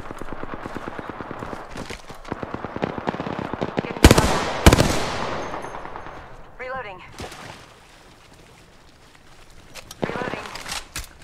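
Video game gunfire in a squad-based battle royale match, bursts of rapid shots with a couple of sharp loud cracks midway, then quieter stretches and more firing near the end, with voices talking over it.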